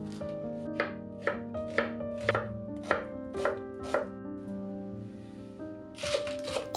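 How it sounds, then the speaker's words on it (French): A knife minces the bulb of a spring onion on a board with a quick series of sharp, close chopping strokes over a sustained musical tone, ending in a short cluster of cuts. "ciselez le bulbe de l'oignon botte"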